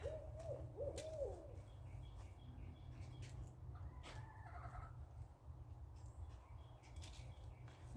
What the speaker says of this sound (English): The hoot owls are out, I can hear.